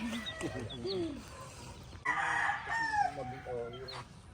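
A rooster crows loudly and close by, a long drawn-out call that rises and then trails off, with other fowl clucking in the background.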